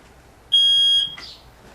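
A smoke alarm sounds its test beep after its button is pressed: one loud, piercing, steady electronic tone lasting about half a second, followed by a faint click.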